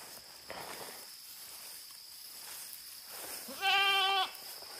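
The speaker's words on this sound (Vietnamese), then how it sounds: "Đây là dê đang chuẩn bị cho ăn đi về rồi" Goats on a farm during flood season give one clear, loud bleat near the end, following a stretch of quiet background ambience.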